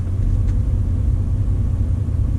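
A Corvette idles in track mode with a deep, steady engine rumble, loud and close, holding an even low drone without revving.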